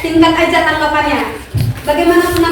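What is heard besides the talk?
No everyday noise stands out behind the speech.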